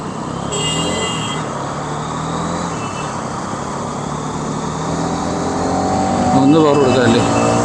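Hero Mavrick 440 motorcycle engine on a test ride, a steady loud roar with heavy wind rush that swells as the rider accelerates, engine pitch climbing near the end.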